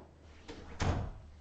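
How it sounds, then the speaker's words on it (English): A door swings shut with a soft first contact and then a firm, louder thud, one close closing in a quiet indoor room. "close the door"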